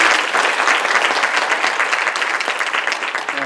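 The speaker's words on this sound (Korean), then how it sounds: "큰 박수 부탁드립니다" A lecture hall audience breaks into hearty applause after a government minister's special lecture, with many hands clapping together densely and loudly throughout, then easing slightly toward the end.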